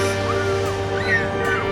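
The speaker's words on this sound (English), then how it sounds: "Look at all the seagulls." Gulls calling at a distance, a few rising and falling cries over steady loud background hum.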